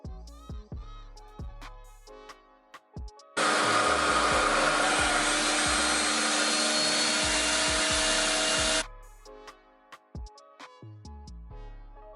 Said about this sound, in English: I've got no real issues in using high heat on my hair with typical blow dryers